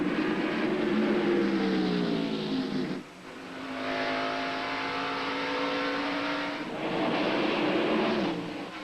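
Race cars roar past in the 1998 Moore's Snacks 250, loud engine drone swelling and fading as cars pass in close succession, with a brief dip in between.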